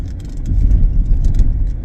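A car rolls over a rough, potholed road with a loud, close, steady low engine and road rumble, marked by small rattles and bumps from the cabin.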